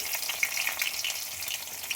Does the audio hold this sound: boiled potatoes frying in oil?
yes